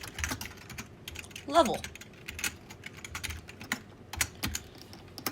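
Rapid clicking of computer keyboard keys while typing Unity scene-switching code, light and close, with a person speaking quietly over it.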